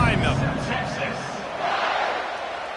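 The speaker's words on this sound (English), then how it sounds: "this crowd now ready to get behind them." Stadium crowd noise in a football video game, a broad steady roar of cheering that swells slightly midway, with a commentator's voice talking over the top at the start.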